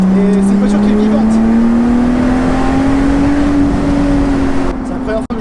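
Inside a Lotus Exige V6 S with a 3.5-litre engine on the road, a loud, close engine drone climbs slowly in pitch under acceleration, then cuts off abruptly near the end.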